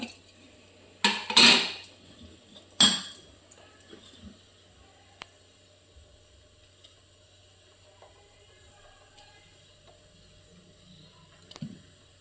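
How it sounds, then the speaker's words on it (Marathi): Metal idli plates are set into a steamer, giving a few clattering metallic clanks early on, then softer scattered taps and scrapes against a quiet background. "आणि हे स्टीमरमध्ये असं ठेवून देऊया किंवा तुमचं इडली पात्रामध्ये ते ठेवा"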